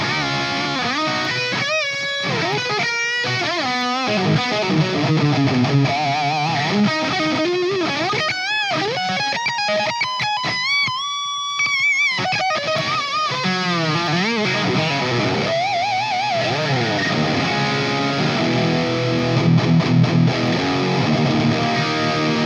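Electric guitar played through a modded Marshall 1987x amplifier with a boost pedal engaged, heavily overdriven riffs, bends and sustained chords ringing loud and close, with pauses between phrases and no talking.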